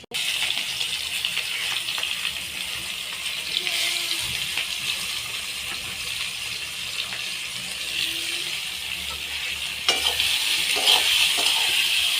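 Onions frying in oil with cumin seeds, dried red chili and bay leaves, giving a steady low sizzle with occasional soft stirring touches, moderately close and quiet, swelling slightly near the end.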